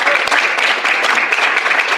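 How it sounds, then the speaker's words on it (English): A crowd applauds the teams at a venture showcase closing a bootcamp, producing loud, dense, continuous clapping that holds steady throughout with no voices on top. "Give yourselves another massive round of applause."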